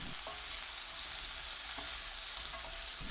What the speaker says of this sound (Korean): 중불로 켜서 3분 30초 볶습니다